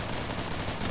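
Automatic gunfire rattles in the Free Fire battle royale game, a dense, loud, rapid burst of shots filling the moment without pause.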